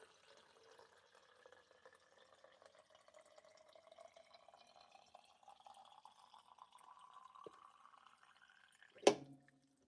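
Water fills a container from a refrigerator dispenser, a faint rising trickle that climbs in pitch as it fills, ending with a sharp click near the end.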